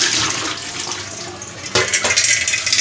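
Clean tap water pours into a cooking pot with a splashing, hissing gush, growing louder and more turbulent partway through as the flow strengthens.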